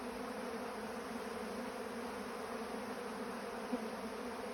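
Honey bees at a backyard hive hum in a steady, faint, even drone that holds without a break, as extra honey is handed back to the colony.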